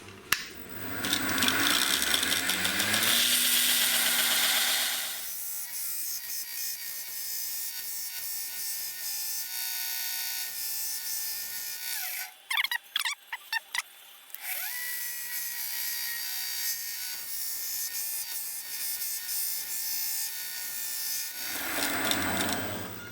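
An angle grinder whines loudly and steadily, with a brief drop as the disc lifts off before grinding resumes, harsh and close.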